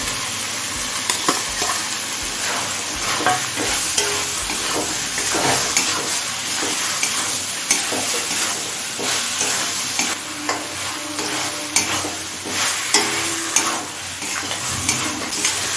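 Fried potatoes are sautéed with tomato masala in a pan, giving a loud, steady sizzle broken by frequent scraping and clinking of the spatula as the mixture is stirred.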